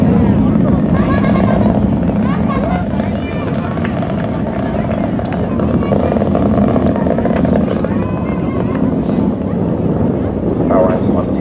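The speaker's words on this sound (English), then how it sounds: "Merlin engine still firing to power this rocket into orbit today" Falcon 9 rocket with Merlin engines roaring after liftoff from the Cocoa Beach area, a loud, steady broadband rumble that holds for the whole stretch, with voices talking over it.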